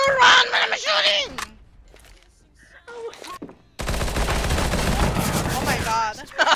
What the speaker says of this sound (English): Why you run when I'm shooting?